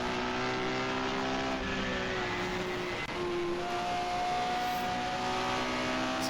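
A 1950s Grand Prix race car screams around Rouen-Les-Essarts in a racing video game, its engine droning loud and close at high revs with tones rising and shifting throughout, and no talking.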